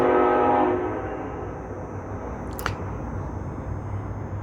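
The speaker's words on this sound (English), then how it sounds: "Do y'all hear that train?" A distant train rumbles along on the far side of a downtown area, a low steady roar with a faint tonal horn-like layer fading early, then a sharp brief click partway through.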